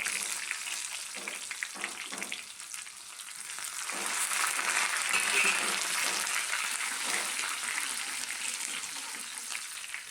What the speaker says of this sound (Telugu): కొంచెం ఆయిల్ ఎక్కువ వేసుకొని కొంచెం ఆవాలు జీలకర్ర ఎండుమిర్చి కరివేపాకు వెల్లుల్లి పసుపు వేసుకొని